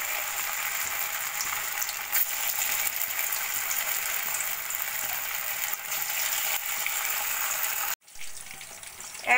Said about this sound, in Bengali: এবার আমি ছোট ছোট করে পকোড়াগুলো ভেজে নেব।